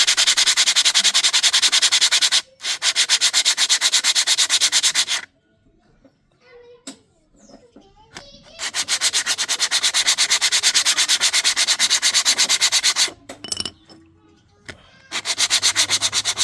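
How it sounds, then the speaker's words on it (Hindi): A rear bicycle disc brake shoe is rubbed back and forth on emery paper in long, steady, rasping runs. It sounds loud and close, and brief pauses with small clicks and handling noises come between the passes. "हम इसे सिर्फ घिसेंगे एमरी पेपर पे, कुछ इस प्रकार घिसेंगे इनको"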